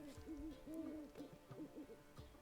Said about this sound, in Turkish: Bir baykuş papağan değil.